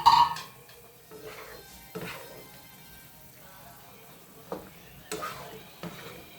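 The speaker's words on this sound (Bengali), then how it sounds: "এবার দেখো ঝোলটা কিভাবে ফুটছে" Bengali bata fish sour curry simmering in a pan, with soft bubbling and sizzling broken by a few louder stirring or pot scrapes, close and moderately quiet.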